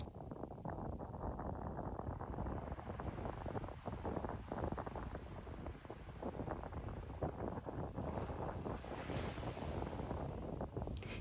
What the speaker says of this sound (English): sometimes the waves were too high and strong